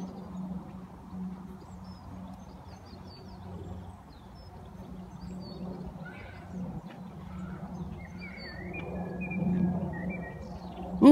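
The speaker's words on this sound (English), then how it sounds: "Oh, I can hear the birdies tweeting as well." Birds tweet in a park with short, faint, high chirps scattered over steady low outdoor background noise, some distance away, and no one talking.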